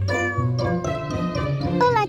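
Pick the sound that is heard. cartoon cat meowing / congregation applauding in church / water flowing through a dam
cartoon cat meowing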